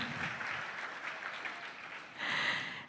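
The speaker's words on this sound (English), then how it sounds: "Give it the biggest round of applause, ladies and gentlemen." Audience applause at a Y20 Indonesia summit opening ceremony, a continuous wash of many hands clapping for about three seconds, swelling louder near the end, with no speech over it.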